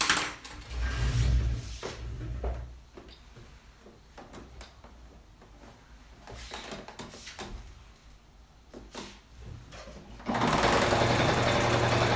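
A sewing machine stitches a fabric pouch in several rapid runs, loud and close, broken by short pauses and handling clatter, with a louder burst of stitching at the end.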